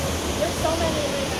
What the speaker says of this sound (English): This is the view of the falls.